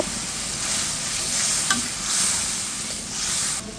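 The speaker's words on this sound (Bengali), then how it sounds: "শুটকি মাছটা দিয়ে দিয়েছি এর ভিতরে জল দিয়ে খুব সুন্দর করে কষিয়ে নেব" Dried fish curry with radish and potato sizzling in a pan after hot water is added, a loud continuous hiss with gentle swelling stirring sounds, close and without voices.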